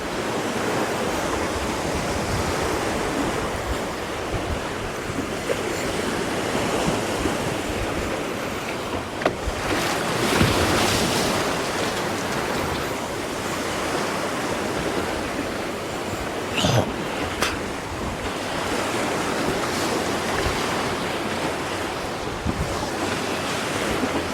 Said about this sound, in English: I hate going back through the waves like this